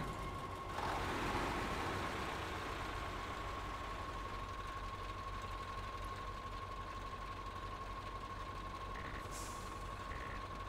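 Truck engine in the Mudrunner off-road driving game on the Deluge map, a steady droning idle with a constant hum running unbroken at moderate level, no talk over it.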